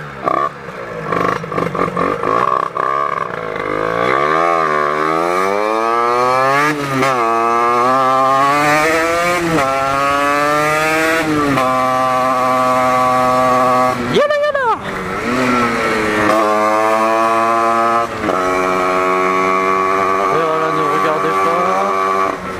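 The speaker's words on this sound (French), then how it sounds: "En plus ma moto elle hurle alors que j'ai mis de la laine de roche." A motorcycle engine, loud despite rock wool packing, roars close by as the rider cruises through a village, pitch climbing and falling through gear changes with a brief sharp rev burst midway.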